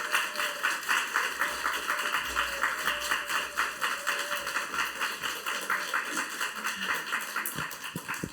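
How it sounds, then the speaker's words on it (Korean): A church congregation at a Friday evening worship service applauds to welcome a pastor, steady crowd clapping filling the hall for about eight seconds with a faint low hum underneath. "우리 김찬숙 목사님께서 나오실 때 큰 박수로 맞아주시겠습니다"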